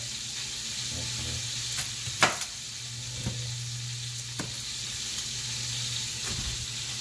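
Italian sausage sizzles steadily in a pan while zuppa toscana soup is being made. The frying hiss stays even throughout, broken by a few sharp taps and clinks from the pan.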